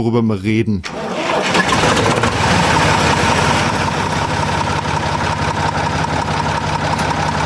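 A mid-1970s tractor engine cranks and catches after a brief bit of speech, then settles into a loud, steady idle with a harsh, screechy edge rather than a soft chug.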